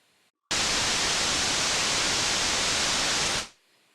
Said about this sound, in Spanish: Y ruido blanco.